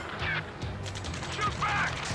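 Gunfire rattles in rapid bursts during an Ace Combat 7 mission, layered with battle noise and faint voices of radio chatter.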